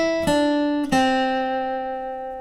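Guitar plays the last run of a song's riff, two plucked notes about half a second apart, the second sustaining and fading, near and clean with no voice.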